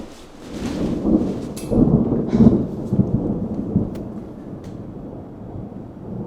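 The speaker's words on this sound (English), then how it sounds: "Goddamn storm." A nighttime thunderstorm with heavy rain, rolling thunder rumbling in several swells over a constant downpour, fairly close and loud, with no speech.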